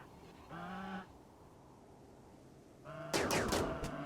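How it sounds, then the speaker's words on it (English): Gunfire at a muffalo herd in the video game Rimworld: a low animal bellow, a quiet stretch, another groan, then a rapid burst of several sharp shots at the end. "now begins the part of the fight where we can use every single gun available"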